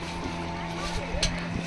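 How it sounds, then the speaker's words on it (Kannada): A motorboat cruises along the river at Kudalasangama, its engine holding a steady mid-distance drone throughout, with voices and outdoor bustle around it. "ಇಲ್ಲಿ ಒಂದು ಬೋಟ್ ಹೋಗ್ತಾ ಇದೆ."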